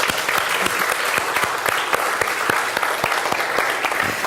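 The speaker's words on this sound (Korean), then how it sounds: "우리 하나님께 영광의 감사 박수 드리겠습니다." A church congregation breaks into sustained applause during a Korean worship service, many hands clapping steadily and fairly loudly with no one speaking over it.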